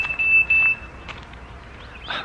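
A boat's alarm gives a thin, steady electronic beep close by, sounding for about half a second alongside faint background noise and brief chatter.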